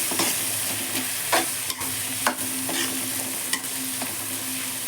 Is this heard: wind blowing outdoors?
no